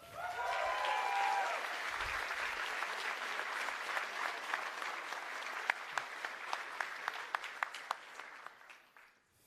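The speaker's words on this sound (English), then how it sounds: "This is your applause, this is your time on the stage." A graduation ceremony audience gives sustained, dense applause to the first Master in International Business graduating class. Some brief voices rise early, and the applause then thins into scattered individual claps before it fades out.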